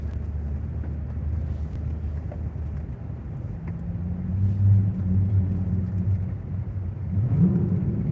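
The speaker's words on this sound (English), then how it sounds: "No plates, loud exhaust." A car with a loud exhaust and no plates passes at night, its low engine rumble building from about the midpoint and swelling again near the end, rising in pitch as it revs past against steady wind noise.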